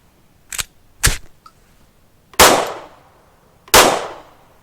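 Gunshots from a SIG firearm during ammunition testing: two sharper cracks followed by two louder, ringing bangs, spaced irregularly and fairly close, with no talking.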